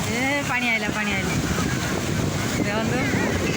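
Seawater surges up the shore at Puri beach, a broad rushing wash of waves and wind running continuously beneath excited voices talking over it.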